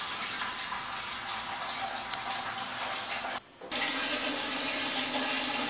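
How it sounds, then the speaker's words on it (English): Biodiesel pours from a 5-gallon container in a steady splashing, gurgling stream, loud and continuous apart from a brief break midway. "And we just pour it into our wash tank."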